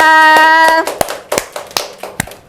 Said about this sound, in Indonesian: Beri tepuk tangan dong buat teman-teman kita.